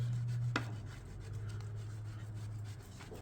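Soft, close rubbing strokes of sandpaper on a wooden hiking stick with a faint steady hum underneath, quiet and continuous with one sharper scrape early on.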